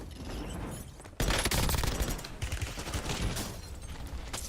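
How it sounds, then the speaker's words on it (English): Dense, loud gunfire from several weapons in Call of Duty rattles on almost without pause, with a sharp surge of rapid shots partway through and no talk over it. "have two people shooting at me."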